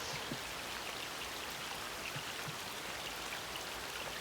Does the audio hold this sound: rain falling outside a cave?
yes